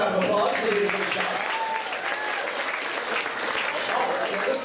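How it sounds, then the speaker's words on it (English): An audience at a Disney's Hollywood Studios backlot studio tour applauds steadily, a broad wash of clapping with some voices and cheers mixed in throughout. "Give them a round of applause."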